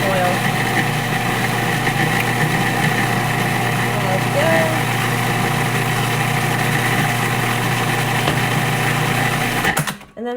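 A kitchen blender or mixer runs steadily, blending olive oil and lemon juice for a potato salad dressing, a loud continuous motor whir that holds for about ten seconds before cutting off abruptly at the end.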